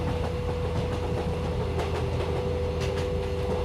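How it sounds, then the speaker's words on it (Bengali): A cartoon local train rumbles steadily along the rails at night, a continuous low drone with a faint rhythmic clatter and a steady hum, heard from inside. "আমাদের ট্রেন হাওয়ার গতিতে চলছে"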